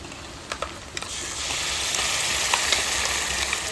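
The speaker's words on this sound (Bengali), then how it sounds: "তাড়াতাড়ি পেঁয়াজটা ভাজা হয়ে যাবে" Onion frying in hot oil, a close, steady hiss and sizzle that swells after a couple of faint clicks and then holds evenly.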